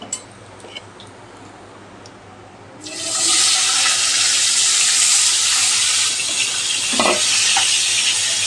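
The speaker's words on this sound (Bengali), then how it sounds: "মাছগুলো খুব বেশি ভাজার প্রয়োজন নেই," Pieces of katla fish frying in hot oil, a quiet hiss at first that jumps to a loud, dense, steady sizzle partway through, close up, with a couple of soft knocks near the end.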